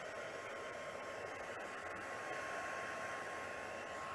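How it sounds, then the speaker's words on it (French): A heat tool blowing steadily to dry wet ink on card, a faint, even, continuous whooshing hum with a thin tonal whine and no talking. "je pourrais accélérer le séchage avec le fer, seulement une coche au lieu de deux."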